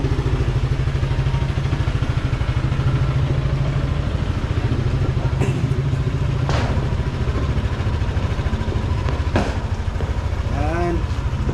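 A motorcycle engine runs steadily at idle, a low continuous rumble with mechanical clatter, with a few brief higher sounds over it and faint voices in the background.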